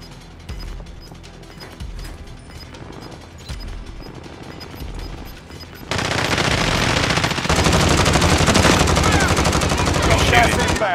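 Gunfire in Call of Duty Modern Warfare, scattered shots and background action at first, then a sudden dense, loud barrage of automatic fire that continues to the end.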